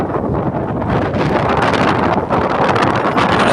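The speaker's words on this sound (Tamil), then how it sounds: "காற்று ஓவராக இருக்குது ஒழுங்காக வலை விரியுமான்னு தெரியல" Strong gusty wind blows by the water while a fishing net is cast, roaring steadily and buffeting the microphone loudly throughout, with a rustling hiss and no voices.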